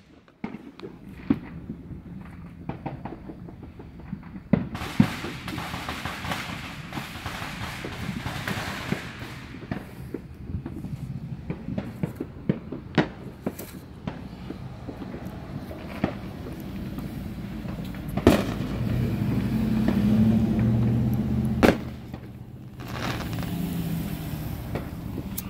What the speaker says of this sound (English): popping these fireworks. So many.